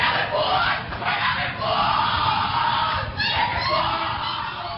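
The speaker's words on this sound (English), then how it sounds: "What you're hearing is the first recording ever made of the Skull and Bones initiation ceremony." Muffled, rough group chanting and shouting from a Skull and Bones initiation ceremony, captured in a secret recording: a crowd of voices yelling in rising and falling bursts, distorted and boomy, steady throughout.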